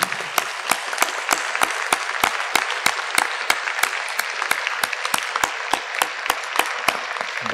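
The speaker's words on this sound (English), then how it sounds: "Please stand up and give a big applause to them." Clapping at a global health conference closing session honors the young session rapporteurs. Sharp, evenly spaced individual claps ring out clearly over a softer scattered spread of applause from the hall.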